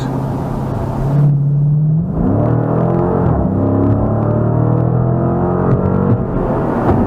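A Dodge Challenger T/A 392 V8 engine roars and climbs through the revs as the car accelerates hard, loud and close, with a deep rising growl.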